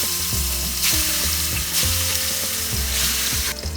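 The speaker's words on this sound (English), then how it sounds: "Now I am going to fry the fish pieces." Katla fish pieces frying in hot mustard oil give a loud, dense, crackling sizzle close up, swelling in bursts as the oil spits, with faint scraping underneath.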